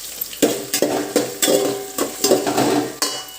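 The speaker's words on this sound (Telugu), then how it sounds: "వేగిన తర్వాత బంగాళదుంపలు కూడా వేసేసుకుని ఇది ఒక 2 నిమిషాలు" Potatoes and onions fry in a pan, a steady sizzle broken by about eight rhythmic scraping stirs of a spatula, close and fairly loud, with no voices.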